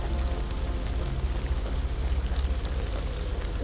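Steady rain falls through a forest in the video game The Land of Pain, a dense, continuous hiss of drops that stays fairly loud and unbroken throughout.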